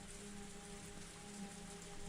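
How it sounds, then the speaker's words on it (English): Steady rain patters in the Higurashi visual novel, a continuous, even wash of falling drops on a surface with a faint low tonal hum beneath, no voices. "The only sounds to break the silence were the percussion of rain."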